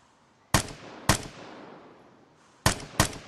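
Four sharp, loud gunshots ring out in a video game, two close together near the start and another close pair near the end, each trailing off with a brief echo and no talk over them.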